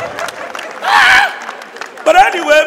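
An audience at a live comedy show bursts into a brief round of clapping and cheering between stretches of someone talking, with a second, smaller swell of crowd noise near the end.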